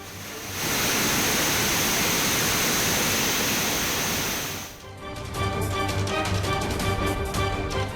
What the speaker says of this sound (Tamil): தெற்பரப்பு அருவிகள் வெள்ளப்பெருக்கு ஏற்பட்டிருப்பதால் குளிக்க தடை